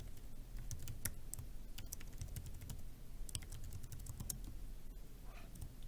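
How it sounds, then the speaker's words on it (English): Login and password typed on a computer keyboard, rapid irregular clicking keystrokes close up and quiet, with no voices. "you will type in your login and your password"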